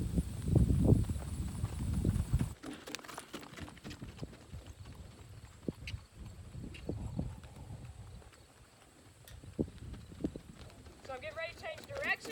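Horse hooves cantering in a round pen during a first training session, a close rhythmic clip-clop of repeated beats, briefly under someone talking and then continuing with fainter hoofbeats.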